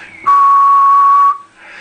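One steady, piercing whistle into a microphone, measured through a Jackson 2 amplifier, held for about a second, loud and close, with faint background noise before and after.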